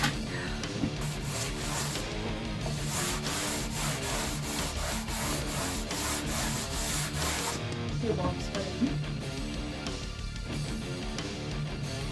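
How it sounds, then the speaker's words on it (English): A countertop's finish coat is power-sanded before another coat goes on, with a steady, close rubbing whir running continuously and loudly, its texture roughening and shifting near the end. "sanding the last coat on the countertop so she can put another coat on today"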